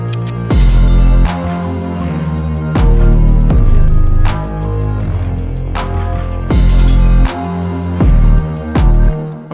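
Bell synth built with a free FL Studio plugin, playing loud repeated bright bell notes over a full beat with booming bass hits and rapid hi-hats.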